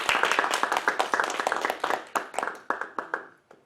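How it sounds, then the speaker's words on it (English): A small group claps for Amy at the close of a talk, sparse distinct hand claps that thin out and fade over a few seconds. "So if I could ask everybody to give Amy another round of applause"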